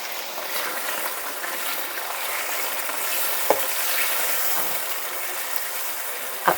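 Minced beef, a kilo of it, fries with lightly browned onions in a pan, giving a steady close sizzle and hiss throughout with a couple of brief clinks of stirring.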